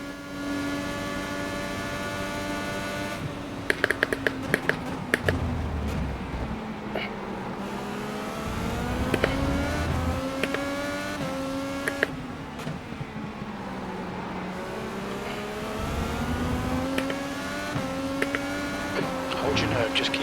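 An IndyCar racing engine in iRacing at Road America screams up through the gears, its pitch climbing and dropping with repeated shifts and lifts, loud and continuous beneath a commentator talking over it.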